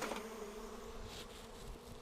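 Honey bees buzz around an open hive during a brood inspection, a soft, continuous hum with brief wingbeats passing close by and no talking.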